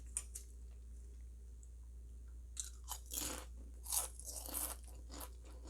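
Crisp crunching bites and chewing of a crunchy keto snack of kelp and seaweed, several loud crackles close up after a quiet start.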